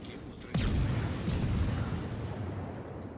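Naval gunfire from front turrets of a Tashkent destroyer in World of Warships pummels an enemy ship, a loud booming onset followed by sustained rumbling blasts, with a voice talking over it.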